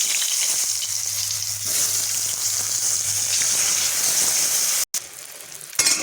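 Eggplant slices sizzle and crackle steadily in hot oil in a wok, a dense close frying hiss throughout, with a brief break near the end.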